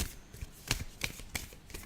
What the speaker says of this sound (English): Should be able to hear the shuffling of the cards.